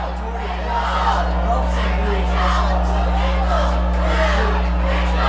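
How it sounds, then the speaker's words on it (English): High school football crowd builds into whoops and cheers in the stands, a broad roar over a steady electrical hum. "Crowd getting pumped up here."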